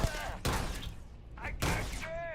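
Gunfire in the video game Starfield, several sharp bursts of shots about a second apart with ringing tails, heard under in-game voices and game sounds.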